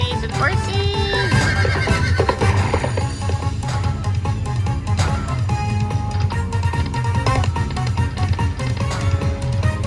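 A horse neigh from a Lightning Link slot machine game whinnies loudly over dense casino chimes and electronic game music, with hoof clip-clops and a voice talking over the mix.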